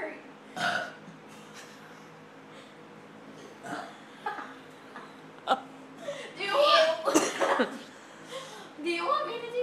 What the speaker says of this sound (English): I was hoping that burp would come out, but it didn't.